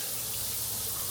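Hot water tap running into a hotel bathroom shower in Yangshuo, China, a steady close hiss of flowing water throughout, unbroken and with no talking.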